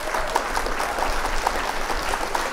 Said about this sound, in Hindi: तालियों का हुजूम उठे साहब।